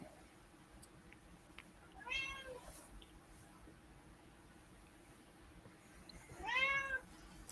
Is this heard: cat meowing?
yes